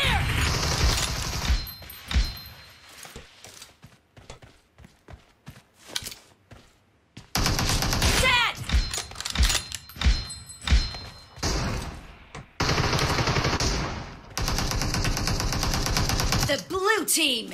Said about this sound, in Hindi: ये कौन सी गन मार रहा है वो?